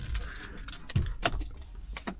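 Car keys for a 1991 Cadillac Brougham jangle close by in a brief metallic clatter of small chinks and rattles lasting about two seconds, with no talking.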